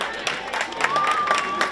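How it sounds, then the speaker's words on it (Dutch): Audience applause at a carnival playback show in Ens, with dense clapping and crowd noise running steadily throughout, mixed with some cheering. "Een hard applaus."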